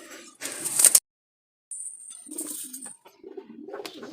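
Low, soft coos from wild Jalali pigeons come in a couple of short bursts with brief pauses between them, close by, with faint rustling in the background.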